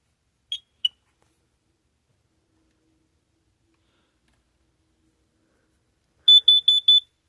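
A carbon monoxide detector in a home experiment sounds off: two faint clicks early, a long silence, then a loud burst of four rapid high-pitched beeps near the end.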